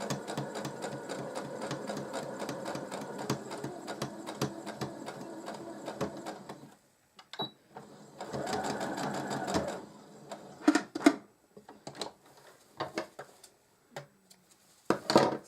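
Sewing machine stitching a seam on a denim lap desk, a steady close mechanical whir for several seconds that stops, runs again briefly, then gives way to scattered handling clicks and taps.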